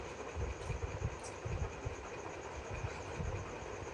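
Continuous rumbling hum of a moving train heard from inside, with soft low thumps and rattles recurring under the steady noise.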